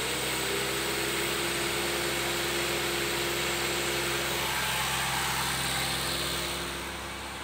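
A 2016 Honda Brio engine runs with revs held steady around 2000 RPM during a cleaning treatment, a loud continuous hum and hiss close by, easing slightly at the very end.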